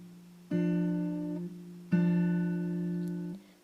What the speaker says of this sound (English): you're picking them with your middle finger and your thumb, and it should sound like this